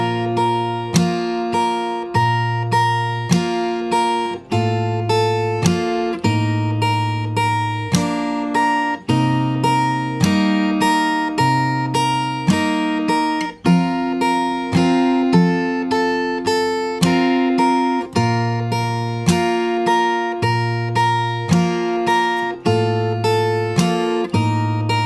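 Slow fingerstyle guitar run-through of a song intro, plucked notes ringing out one after another in an even, unhurried rhythm, clear and close with nothing else heard.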